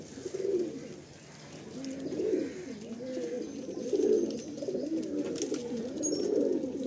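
Pigeons for sale cooing close by in a loft in Kolkata, repeated low throaty coos in soft rolling bursts over a quiet background.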